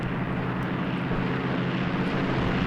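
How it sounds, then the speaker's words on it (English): A World War II warplane in Graviteam Tactics Mius Front roars overhead as a steady, dense engine drone that holds loud and even for the whole stretch, with no voices. "Planes are dropping more bombs."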